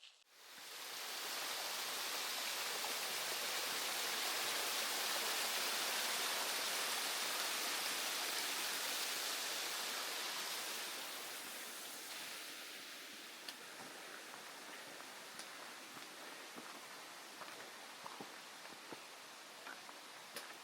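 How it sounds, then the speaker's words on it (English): A small waterfall on a forest hiking trail in the Smokies, a steady broadband rush of falling water that stays loud and continuous, easing slightly in the second half, with faint rustles and no voices. "a beautiful, beautiful little waterfall here."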